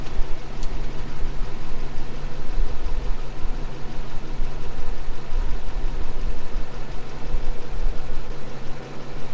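A junkyard 1962 Chevrolet Impala engine running after sitting for over 25 years, a loud steady idle with a continuous low droning rumble close by.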